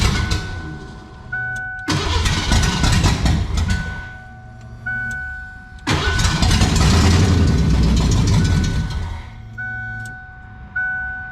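A car engine without its exhaust or oxygen sensors connected cranks with a key and catches three times, each start settling into a loud, rough idle before cutting out. Brief warning chimes sound in the gaps between attempts.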